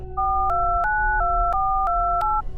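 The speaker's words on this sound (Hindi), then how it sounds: "शुभम ने अपने दोस्त दीपक को फ़ोन लगाया" Telephone being dialed for a call: a steady dial tone under a sequence of six short, evenly spaced keypad beeps, each a two-tone chime, close and clear.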